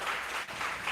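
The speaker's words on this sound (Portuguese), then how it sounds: "Quantos podem dar uma salva de palmas ao Senhor Jesus?" A church congregation claps, a brief burst of dense applause with a momentary dip in the middle, moderately loud and filling the room.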